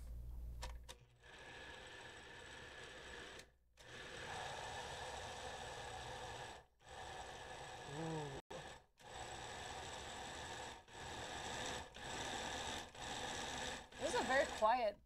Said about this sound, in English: This is a very quiet blender.